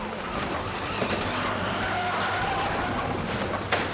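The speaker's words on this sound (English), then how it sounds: "The police unit rammed the suspect's car, and it's flipped upside down." Police cruiser ramming a fleeing domestic-violence suspect's car, which skids and flips upside down, heard as a loud, steady roar of engine and tire skid noise with a sharp crunch near the end.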